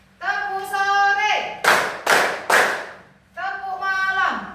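Voices chant in a children's hand-clapping game, and a group answers with three sharp, evenly spaced claps before the chanting resumes.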